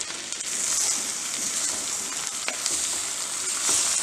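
Roughly chopped tomatoes frying with onions for pav bhaji make a loud, steady, hissing sizzle, with soft stirring scrapes mixed in.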